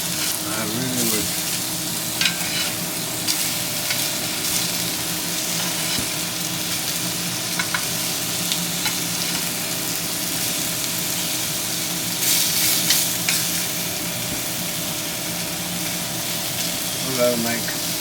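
Sausage patties frying in a pan for a homemade breakfast, giving a loud, continuous crackling sizzle throughout, with faint talk in the background.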